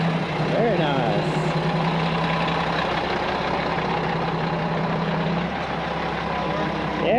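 A truck engine idles with a steady, low, unbroken rumble throughout, close by, while people talk over it.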